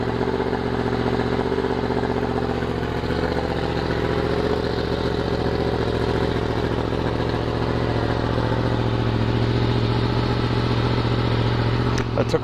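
A Yamaha FZ10 (MT-10) motorcycle fitted with a Yoshimura Alpha exhaust runs with a loud, steady idle rumble close by, holding an even note throughout.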